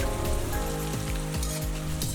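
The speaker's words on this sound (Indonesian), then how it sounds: "Baru setelah itu kita masukkan tempe yang udah kita iris tipis." Thinly sliced tempeh fries in very hot oil in a wok over high heat, a steady crackling sizzle with sustained musical tones playing underneath.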